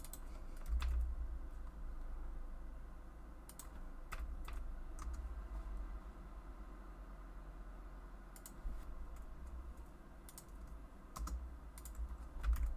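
Steady computer keyboard typing with bursts of sharp key clicks scattered over several seconds, close and moderately quiet, no voices.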